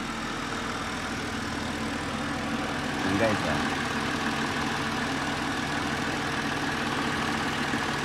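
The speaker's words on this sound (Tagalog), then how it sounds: "Pakinggan nyo ang andar. Pinong-pino na yan." A BMW N52 engine idles with a steady, even low hum after repair of a VANOS control valve fault, and a person briefly speaks over it partway through.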